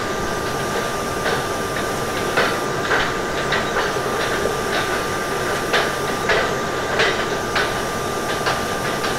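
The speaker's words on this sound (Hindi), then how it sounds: "local train" In the Open Rails train simulator, a Mumbai EMU local commuter train rumbles steadily along the tracks, loud and close, with rhythmic clickety-clack beats over a constant roar.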